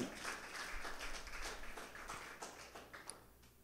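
Applause from a church congregation during a sermon, a dense patter of clapping that is fairly faint and gradually thins out toward the end.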